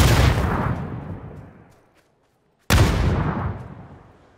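Two grenades explode in PUBG, one after another, each a loud, sharp blast whose rumble decays over a couple of seconds, with a short silence between them.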